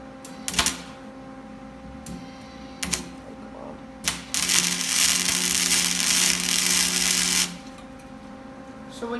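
Wire-feed welder laying a bead on a 2001 Ford F-250 truck bumper, a steady crackling buzz lasting about three seconds after a few short sharp taps, close and fairly loud, with a faint voice before it.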